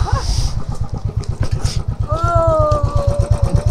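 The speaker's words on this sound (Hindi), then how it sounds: "हम चलाएंगे अब बाइक।" A motorcycle engine idles and revs with a steady, pulsing low throb close by. A tonal whine rises over it partway through.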